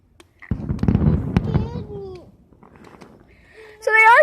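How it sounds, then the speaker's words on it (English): Fireworks going off at a show, a cluster of sharp crackling bangs and pops at moderate distance, followed by quieter whistling streaks, with people exclaiming nearby. "So they are setting off fireworks this year."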